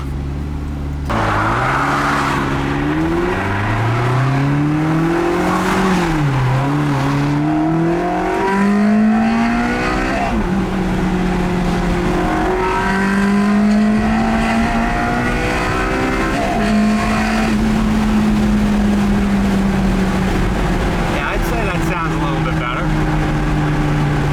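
A Ferrari 360 engine revs and drops repeatedly, rising in pitch with each throttle blip, loud and close, over steady road noise.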